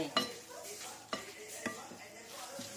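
Pork glass noodle larb ingredients mixed by hand in a small bowl, giving soft wet squelches and a few sharp clinks against the bowl, close and fairly quiet.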